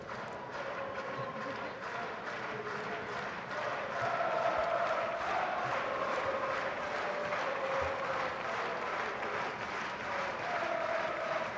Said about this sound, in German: Jetzt viel Applaus für den Wiener Sportclub in der Stadthalle.